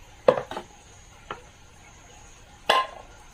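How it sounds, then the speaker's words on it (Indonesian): Glue stirred in a small container for a 15-inch speaker repair, a few scattered light scraping taps, with a longer scrape near the end, over a faint steady background hum. "Kita aduk lem dulu, pakainya biasa ini."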